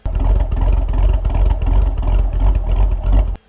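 An LS V8 with an aftermarket camshaft revs and idles close and loud, its deep uneven lopey chop pulsing in rhythmic thumps before cutting off abruptly near the end.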